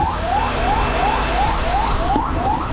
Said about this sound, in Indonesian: ambulans Kantor Kesehatan Pelabuhan Kupang dan juga ambulans ARFF sedang menuju dari pos APSEC menuju runway di parking stand 1